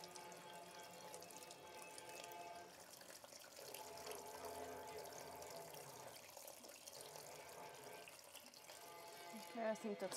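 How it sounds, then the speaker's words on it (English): Water is poured into a tray beside an old RV blackwater tank being removed, a faint, steady trickling wash that runs continuously for about ten seconds. "put a little bit of water in that tray here"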